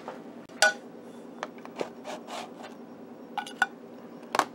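A spatula scrapes and taps against freshly baked gelatin sugar cookies on a pan, giving a series of faint, irregular scrapes and clinks with quiet gaps between them.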